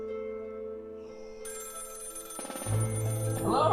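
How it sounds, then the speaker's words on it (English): A telephone rings loudly through a live toy-haul show, its bell steady and then growing denser and louder toward the end, with no talk over it. "I'm trying to do a show live, and I'm getting a phone call."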